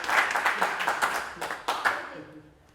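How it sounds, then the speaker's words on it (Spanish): Applause from an audience at a graphic medicine event, a lively clatter of clapping hands with distinct sharp claps standing out, fading away near the end as a voice begins speaking. "Yo le daría otro aplauso"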